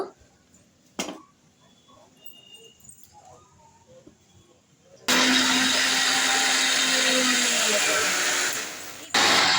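A mixer grinder whirs loudly at an outdoor picnic as it grinds ginger, garlic and green chillies into paste, a steady motor roar for about four seconds that follows quieter handling noises and a few voices.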